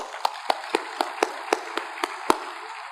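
Sharp, evenly spaced claps ring out from a church congregation during a Korean Sunday worship service, about nine distinct hand strikes at a steady rhythm, moderately close with no talking over them.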